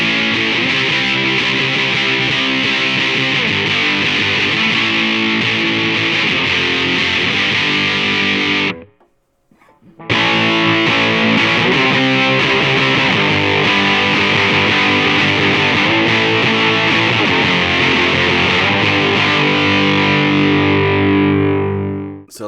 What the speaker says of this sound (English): I have it on the 60s Fuzz, and I'm going to poke it in and poke it out